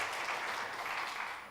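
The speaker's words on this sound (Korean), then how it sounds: "우리 성가대원들에게 축복의 박수 한번 했으면 좋겠습니다" A church congregation gives the choir a brief burst of warm, steady applause, full and close, with no voices over it.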